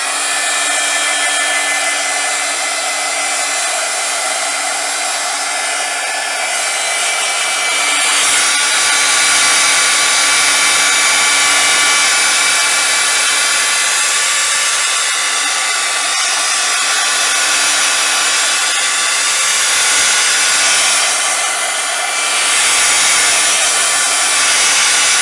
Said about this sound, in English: I'm gonna hit this really quick with my heat gun,